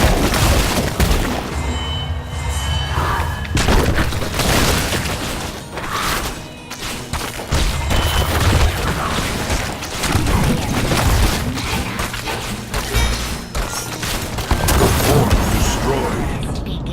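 Heavy crashing booms and blasts as a fort is destroyed in Heroes of the Storm, dense continuous battle noise with impacts throughout, loud and layered with game effects.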